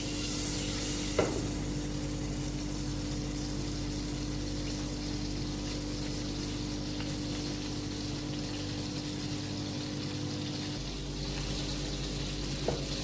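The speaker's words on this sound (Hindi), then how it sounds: "ये देखिए तड़का।" Garam masala and cumin sizzle steadily in hot oil for chana dal tempering, a continuous close crackle with no one talking.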